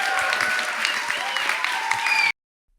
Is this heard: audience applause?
yes